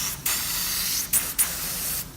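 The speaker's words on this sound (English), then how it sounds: "So just going to test to make sure the spray pattern's okay." A steady hiss of a spray gun test-spraying to check its pattern during metal flake repair on a fiberglass boat, running continuously with a few brief louder bursts, close by and without any talking.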